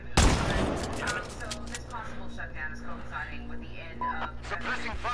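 Gunfire in the video game Sniper Ghost Warrior 3: a sharp burst opens, then shots and battle noise continue steadily under overlapping talk.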